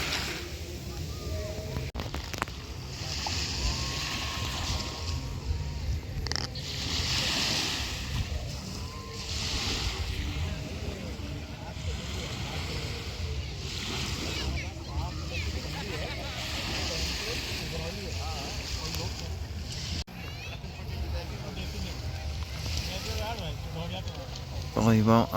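Waves washing onto Kitsilano Beach in Vancouver as the tide comes in, a continuous rolling surf wash mixed with wind buffeting the microphone and distant beach voices.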